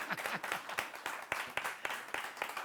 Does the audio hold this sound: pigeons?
no